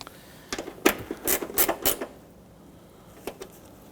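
Hand ratchet snugging up the top headlight bolt on a 2006-2014 Honda Ridgeline, a quick run of close clicking ratchet strokes followed by a couple of faint clicks.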